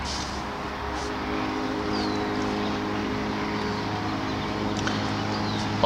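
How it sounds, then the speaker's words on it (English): A passing motorcycle drones steadily as a continuous engine hum close by, fairly loud throughout, with no speech over it. "now a motorcycle's going by"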